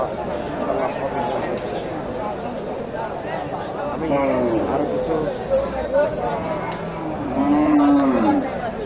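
A Friesian cow at the Dakumara cattle market in Bogura lets out a couple of drawn-out moos, one near the middle and a louder one near the end, amid steady market chatter and people talking nearby.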